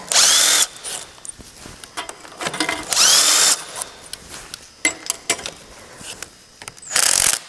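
A power tool spinning out bolts on a Ford tractor engine during a head gasket job, with three loud whirring bursts separated by clanks and rattling of metal parts.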